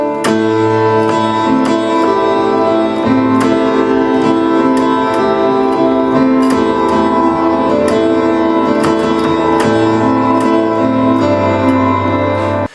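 Piano playing a song with both hands, sustained chords and a steady repeating melodic line, clear and close with no talk.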